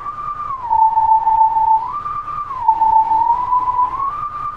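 A wolf whistling stone tune from the video game Zelda: Twilight Princess plays as a single smooth whistled melody, sliding between two pitches and then holding steady, prominent over a low background hum.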